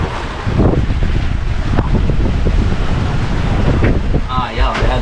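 Strong wind roars across the microphone aboard a sailing catamaran at sea, a loud, steady buffeting with water sounds underneath and a brief tonal sound near the end.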